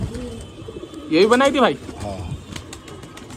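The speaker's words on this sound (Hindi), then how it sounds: "इसमें पाकिस्तानी काले कतले और पटेत एक से हसीन कबूतर है भाई" Pakistani black Katle pigeons coo in one loud, close, rolling call lasting about half a second, with softer bird sounds and a voice talking before and after.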